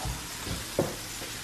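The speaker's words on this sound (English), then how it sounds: "I'm gonna just go ahead and finish frying the shrimp" Shrimp frying in a home kitchen pan gives a steady sizzling hiss, with a soft clatter near the middle and no talk over it.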